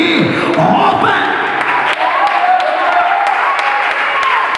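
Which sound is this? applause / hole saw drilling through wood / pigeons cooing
applause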